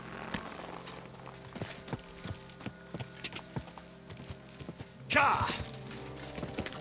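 Horse hooves clip-clop at a steady walking rhythm in the medieval video game Kingdom Come: Deliverance II, close and clear, before a louder burst near the end as a voice calls out briefly.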